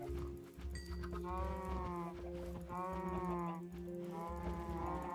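Sheep in Minecraft bleat in several drawn-out calls, one after another, close and clear over a steady game background with cows nearby.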